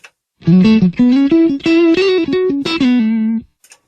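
Electric guitar through a Line 6 POD HD300's Blackface Double amp model, a driven, slightly gritty tone playing a quick melodic phrase of sustained notes, alone and loud.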